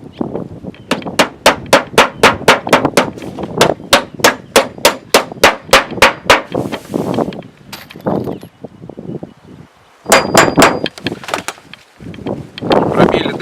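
Ordinary nails are hammered into a thick sheet-metal pitched beehive roof: a fast, steady run of about twenty loud ringing metallic blows, a pause, then a few more strikes close by.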